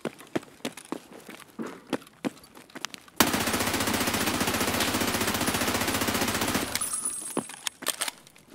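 Escape from Tarkov gunfire from a P90 or Vector .45 submachine gun: after scattered footsteps, a loud, close, sustained rapid-fire burst lasts about three and a half seconds, then footsteps and shuffling return.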